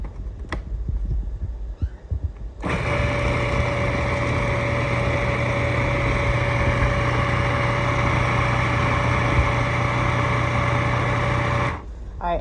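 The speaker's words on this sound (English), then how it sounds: "So I'm going to put all this in the food processor and grind everything up." Food processor grinding garlic scape pesto with parmesan and pine nuts: a steady, loud motor whir and whine running for about nine seconds after brief handling clatter, then stopping abruptly.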